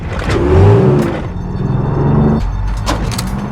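A tank's engine rumbles low and steady as the tank moves out, with whirring mechanical tones and a brief rising rev near the start, close and continuous.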